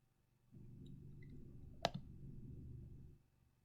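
A single sharp computer mouse click, loud and close, sounds midway over a steady low room hum, with no talking around it.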